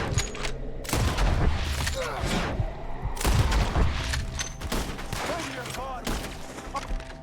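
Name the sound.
gunfire in the video game Red Dead Redemption 2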